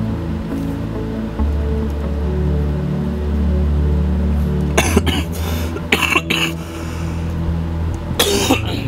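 A person coughs several times in short, harsh bursts over a steady low rumble, the coughs loud and close.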